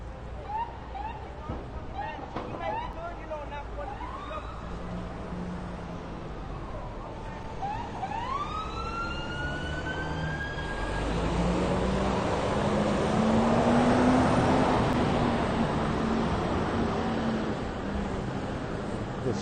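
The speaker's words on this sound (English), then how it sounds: "sounds of the city." Street traffic in New York City near Fulton Street, with passing vehicles swelling and fading, a rising whine from one of them, and a broad roar from a bigger vehicle going by in the middle under general city noise.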